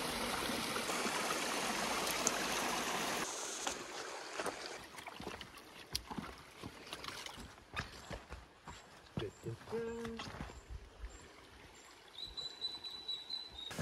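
A mountain stream in the Slovak mountains rushes loudly and steadily for the first few seconds, then fades to a softer background flow under scattered clatter, footsteps and faint voices.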